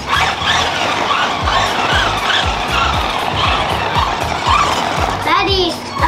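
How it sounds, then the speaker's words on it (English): RC cars driving and skidding outdoors, with repeated short tire squeals and buzzing electric motors close by, plus a rising whine near the end, all under continuous background chatter and children's voices. "about to go drive some RC cars with the boys"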